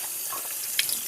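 Warm water running steadily from a tap onto an aftermarket air filter, a close, even splashing hiss with a small drip-like blip near the end.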